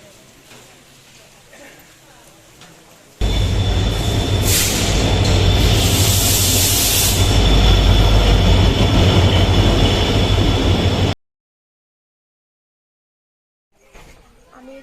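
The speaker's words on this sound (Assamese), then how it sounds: "ট্ৰেইন আহি পালে এতিয়া আমি উঠিম আৰু।" Train pulling into Harbuk railway station in Assam, a loud sustained rumble and rattle of carriages lasting several seconds before stopping abruptly, with faint talk before it.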